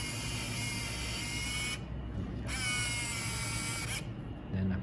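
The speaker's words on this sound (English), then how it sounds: "So I click the zoom first." The zoom motor of a Pentax Espio 115 compact film camera whirs in a steady electric drone, stopping and restarting in several short runs, close and moderately loud over low background noise.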